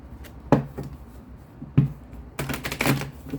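A few sharp riffling bursts of tarot card shuffling, close and fairly loud, with a longer rapid flutter near the end; no talking.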